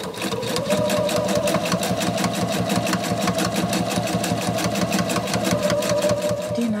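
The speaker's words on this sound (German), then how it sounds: "Und jetzt wird das Stück zusammengenäht." Sewing machine stitching fabric bag straps, running continuously at a fast, even rhythm of rapid needle clatter, close and loud with no talk over it.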